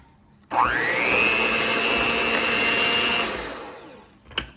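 An electric mixer whirs up to speed and holds a steady high whine while beating cake batter with eggs, running about three seconds before spinning down and a brief clatter at the end.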